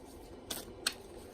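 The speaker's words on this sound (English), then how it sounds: "I am shuffling the cards for you" Two quick, faint riffles of cards being shuffled, separated by a short pause in an otherwise quiet room.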